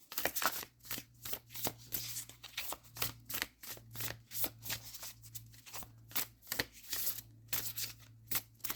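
Tarot cards being shuffled near the microphone, a steady run of crisp riffling bursts with short pauses between them, alone with no talking.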